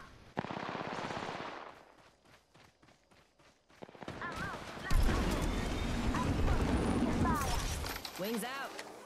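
Bursts of rapid automatic gunfire from a video game firefight, with rattling volleys, some explosive booms and overlapping players' voices over the chaotic combat.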